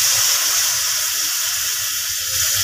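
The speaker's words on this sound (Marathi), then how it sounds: "परतून झालं की आता यामध्ये थोडंसं गरम पाणी ओतायचं" Hot water poured into a pan of roasted semolina for upma, giving a sharp, steady sizzling hiss of steam and bubbling for a few seconds, close and loud.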